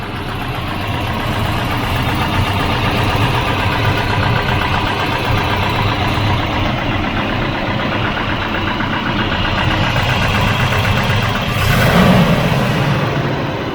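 A Volvo 240 engine idles at very low RPM, a steady rough mechanical hum that stays even throughout and swells slightly near the end, with no talking.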